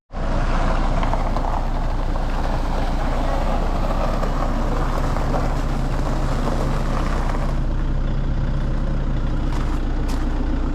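Road traffic of cars and trucks on a route through forest near Chikmagalur, Karnataka, a loud, steady rumble of engines and tyres that holds throughout, with a vehicle passing close by.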